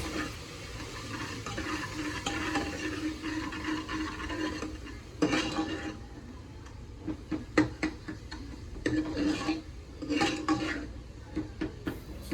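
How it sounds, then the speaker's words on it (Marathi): Chicken masala roasting in oil in a pan as a spoon stirs it, with soft sizzling, a low hiss and intermittent scraping clinks of the utensil against the pan, close by and without voices. "मीठ आणि थोडा चिकन मसाला घालून व्यवस्थित मिक्स करून परत तेल सुटेपर्यंत भाजून घ्यायचा आहे"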